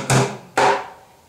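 Two loud hits on an upturned plastic bucket from a basic bucket drumming pattern, a deep boom followed by a second strike, each ringing out briefly, played alone.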